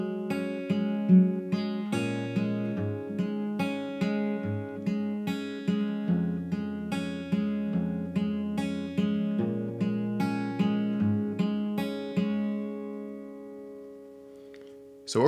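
An acoustic guitar plays a song intro, steady rhythmic strums of ringing chords repeating evenly, clear and close, alone without voices.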